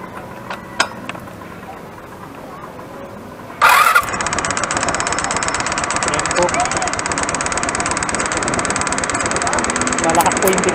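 A Rusi Royal GY6 scooter fitted with a ferrite bead cranks with a short whir and starts, then settles into a steady, loud, rattly idle that continues to the end.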